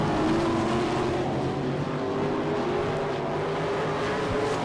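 410 sprint cars roar around the Attica dirt oval at a season opener, a loud continuous engine drone with steady pitch and a slight rise as cars pass, no voices.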